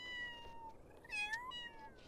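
Kittens in the video game Feral mewing in a quick series of thin, high calls, a few overlapping, set against a soft steady background hum with no talking.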